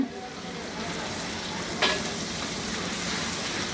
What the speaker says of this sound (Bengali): আরও মিনিট খানেক একটু ভেজে নিই টমেটোটা একটু নরম হয়ে যাবে